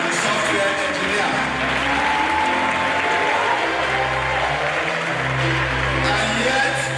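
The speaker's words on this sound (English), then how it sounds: "Another round of applause for the software engineer." An audience at a talk gives sustained applause for a software engineer, a full, even wash of many hands clapping with faint room murmur beneath.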